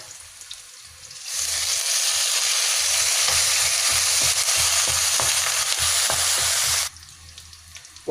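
Chili and curry leaves dropped into hot oil in a wok for salted egg prawns, bursting into a loud, steady sizzle for about six seconds, with scraping stirs beneath, before the frying sound suddenly drops away.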